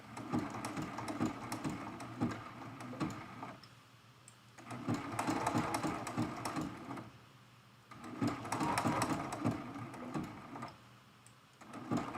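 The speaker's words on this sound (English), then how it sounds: "Let's go ahead and do the same zigzag stitch right on the center of that flower" A sewing machine runs a zigzag stitch across the center of a flower on a quilted mug rug, in three rapid whirring bursts separated by short pauses, moderately quiet and close.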